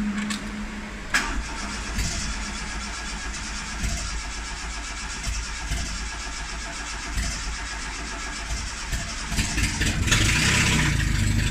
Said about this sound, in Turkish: Şimdi bir daha marş yapacağız bakalım.